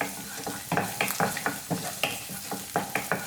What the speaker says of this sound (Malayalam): ഇനി എണ്ണ ചൂടാകുമ്പോൾ നമുക്കിതിലേക്ക് ഒരു 5-6 വെളുത്തുള്ളി ചെറുതായിട്ട് മുറിച്ചത് ഇട്ട് കൊടുക്കാം.